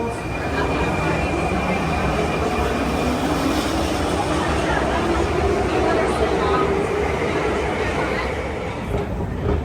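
Inside a busy train station in Prague, a constant loud rumble of rail noise fills the space, with a crowd murmuring throughout.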